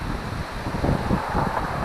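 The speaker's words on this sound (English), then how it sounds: "That wind is just howling." High wind howling outdoors during tenkara fishing for bass, a steady roaring gust buffeting the microphone with low rumbling surges, loud and continuous with no voices.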